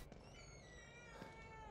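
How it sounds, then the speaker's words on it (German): A cat meows in The Evil Within 2, a faint drawn-out mew heard against quiet game ambience. "Husch, Katze, du musst wieder weg da."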